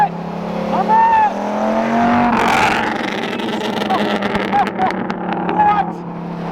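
A Dodge Viper with a broken-car condition roars through a pull, a loud engine drone rising and falling with revs, while excited voices shout and talk over it close by.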